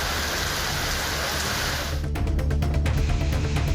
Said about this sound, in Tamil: சூறை காற்றுடன் கனமழை பெய்தது